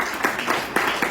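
Brief burst of audience applause from students at a college event in Clifton, Karachi, a loose patter of hand claps that stays fairly even and close through the short moment.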